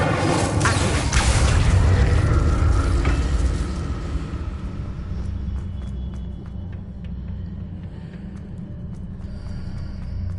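A loud magical fire burst from the Incendio spell in Hogwarts Legacy on PS5 erupts in a deep roaring whoosh, then fades over several seconds into a lower rumbling ambience.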